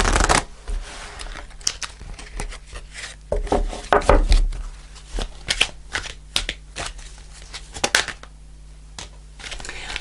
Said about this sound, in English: I'm going to pull a fairy card to finish off the reading.